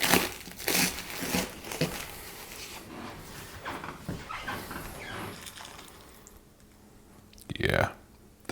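A knife saws through a crisp air-fryer grilled cheese sandwich, giving a few crunchy crinkling strokes, with a sharper crackle near the end, close up and beneath some talking.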